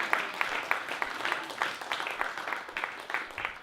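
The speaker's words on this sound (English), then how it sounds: "so maybe a round of applause for him" A small audience at a spoken-word poetry night claps, with individual claps clearly separated in an uneven, lively rhythm, close and moderately loud.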